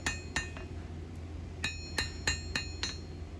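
A hammer lightly taps a high-carbon steel blade on the anvil face as the metal cools. About eight sharp, bright metallic clinks arrive at irregular intervals over a low background hum.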